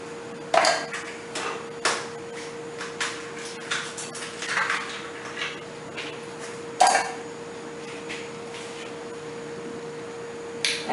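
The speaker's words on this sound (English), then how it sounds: "Now I'll add some ice to this. I'm adding 2 to 3 cubes" Two to three ice cubes clatter into a blender jar of mango chocolate shake, giving a series of sharp clinks and knocks spaced through the clip with a steady background hum.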